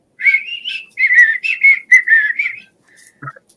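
A person imitates a policeman's whistle with a quick series of shrill, warbling whistle bursts, close and loud, in an uneven rhythm before stopping with a short vocal sound.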